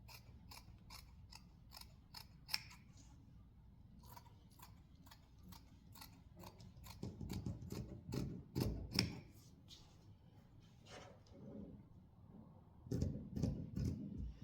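Scissors snip through fabric for a sewn Bible cover in a quiet home sewing space, with steady, close blade clicks and rustling of cloth that grows louder midway.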